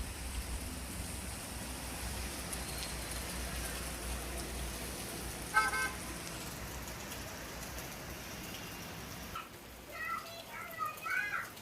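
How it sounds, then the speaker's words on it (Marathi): Steady rain falls outside during an all-day monsoon downpour, a soft continuous hiss with no clear pauses. Children's voices and distant activity sound faintly over it near the end. "बघा किती मस्त पाऊस पडतोय इकडे."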